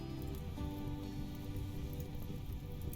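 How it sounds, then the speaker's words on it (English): Steady rain falling in the RimWorld video game, a dense continuous patter of drops on surfaces at an even level with no talk. "The rain now finally putting the fire out."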